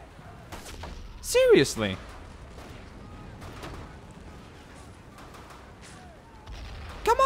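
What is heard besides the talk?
mortar shells landing in a video game (3000 Miles to Tokyo)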